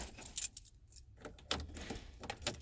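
A set of keys for a 2003-2009 Dodge Ram 1500 jangling close by in bright, irregular metallic clinks and rattles, in two flurries with a brief quieter pause between them, and no talking.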